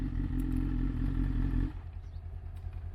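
Exhausts of a Honda CBR500R and a Honda Grom idle together, a loud steady low rumble that drops in level partway through while continuing as a quieter uneven burble.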